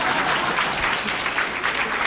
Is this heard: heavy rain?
no